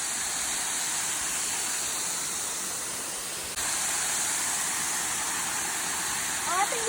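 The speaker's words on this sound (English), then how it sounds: "So this is the waterfall." A waterfall roaring in a steady, dense hiss of falling water, close and constant throughout, briefly under a voice near the end.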